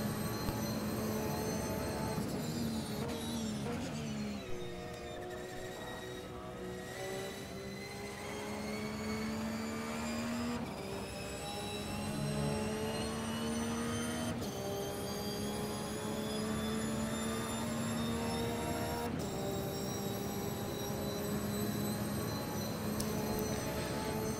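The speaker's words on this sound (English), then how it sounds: "just hear that engine sound for a little bit" On-board at Monza during qualifying, a race car's boxer engine screams through repeated rising gear runs, each climb in pitch broken by sharp shifts and a brief dip as it brakes, loud and close throughout.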